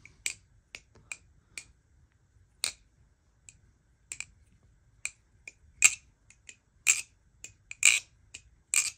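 A Marcolo Comet balisong butterfly knife with G10 handles flipped by hand: sharp, bright metallic clicks and clacks in irregular bursts, some single and some doubled, close and fairly quiet with no talking.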